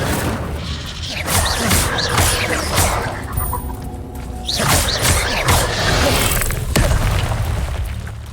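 Fire spell cast in Hogwarts Legacy, with loud booming bursts and crackling impacts repeating through the stretch alongside other spell effects, a voice speaking over parts of it.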